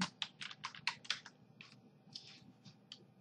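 Code being typed on a computer keyboard, close and quiet: quick bursts of crisp key clicks with short pauses between them.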